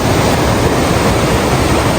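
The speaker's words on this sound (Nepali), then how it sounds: "so close to Langtang River" Langtang River rushing past in the Nepal mountains after rain, a steady, loud broadband roar of flowing water with no breaks or voices, close and continuous throughout.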